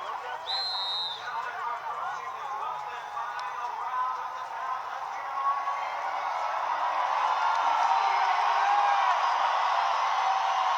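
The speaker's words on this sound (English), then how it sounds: "A crowd who has come out to support their homegrown world champion, Jose Ramirez." A boxing arena crowd cheering for homegrown world champion Jose Ramirez in the final round keeps up a broad, steady roar that swells slightly toward the end, heard beneath close commentary.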